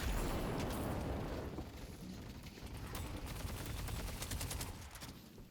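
Rapid gunfire from the video game Deadlock pours out in a dense, sustained barrage that fades slightly midway and then swells again, with no voices over it.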